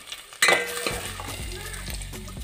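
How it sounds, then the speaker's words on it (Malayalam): A utensil stirs a cabbage stir fry in a pan, with a sharp scrape and clink at the start and then a steady sizzle and soft stirring noises. "ഒന്ന് ഇളക്കി കൊടുക്കാം."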